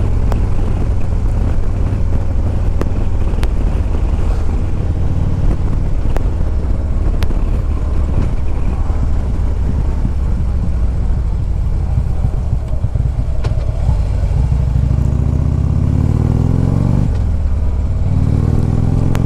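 A 2014 Harley-Davidson Street Glide FLHX on the road: a loud, continuous engine rumble with wind roar, the pitch rising and falling as the rider revs.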